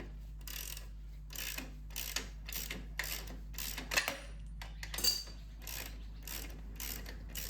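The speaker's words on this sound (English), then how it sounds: "To remove the wheel, all I need is a 27mm socket" A 27mm socket on a ratchet loosens the axle of a motorcycle wheel, giving a steady run of close, quick clicking bursts with short pauses between strokes.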